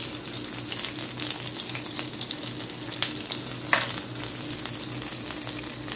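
Onions sizzle and fry in a hot pan on a home stovetop for cheeseburgers, a steady close crackling hiss with a few sharper pops and a brief spoon scrape partway through.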